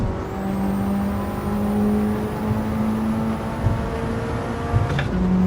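Volkswagen Corrado engine in a VR racing game, a steady droning hum with a sustained tonal whine, holding fairly even with slight pitch shifts and a brief rise near the end, no talk over it.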